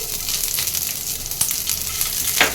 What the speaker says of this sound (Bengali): তেল গরম হয়ে গেছে তেলে দিয়ে দেবো পেঁয়াজ কুচি